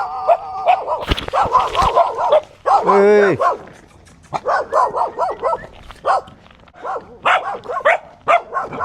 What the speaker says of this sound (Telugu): కుక్కలు ఉన్నాయి